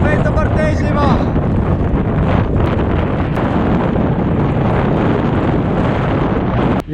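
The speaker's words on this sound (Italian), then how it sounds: "Vento fortissimo!" Very strong wind buffets the microphone with loud, continuous rumbling gusts on a cycling trip between Romania and Russia, with a brief voice near the start.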